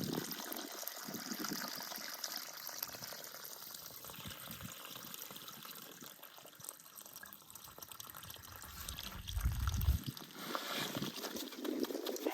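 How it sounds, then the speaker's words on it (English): A newly planted blue spruce in a summer garden is watered at its base, giving a steady, soft rush of running water that swells briefly near the end and carries on without talk. "so I'm just gonna give it a good water, trying to not get the water on the plant"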